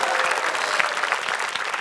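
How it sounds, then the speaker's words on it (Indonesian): Steady applause from an audience, many hands clapping together in a dense, even patter. "Tepuk tangan dulu buat peserta kita dong."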